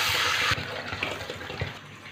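Water pours steadily into a cooking pot of fried spices and onions for rice, a loud rushing splash for about half a second that settles into a softer trickling and bubbling.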